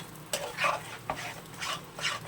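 Pointed gourd paste stirred and fried in a pan after garlic, a series of brisk scraping strokes with sizzling, close and moderately loud, roughly four sweeps in quick succession.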